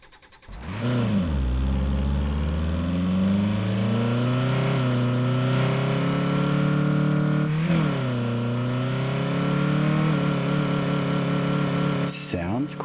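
Car engine in the Drive Beyond Horizons driving game, starting up then revving and holding a steady mid-pitched drone that rises and dips over several gear changes, loud and close throughout, with a brief click near the end.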